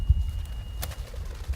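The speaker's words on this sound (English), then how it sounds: "let these birds fight over it" Birds, including a magpie, squabble over food scattered at Loch Sport in Victoria, Australia. Soft, low coos and scattered faint calls are joined by one brief sharp squawk, with no talking.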